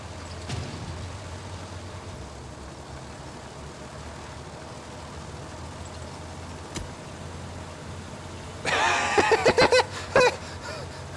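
A military truck engine drones steadily in the wartime video game Hell Let Loose, a continuous low rumble close by, with a burst of louder crashing and clattering near the end.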